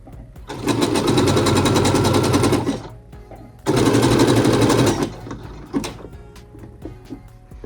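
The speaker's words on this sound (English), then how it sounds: "pull the thread while sewing" Sewing machine stitching a ruffle on a top, in two loud, close bursts of rapid rattling needle strokes of about two seconds each, separated by a short pause, then quieter handling noises.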